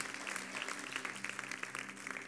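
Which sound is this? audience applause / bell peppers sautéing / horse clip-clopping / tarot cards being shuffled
audience applause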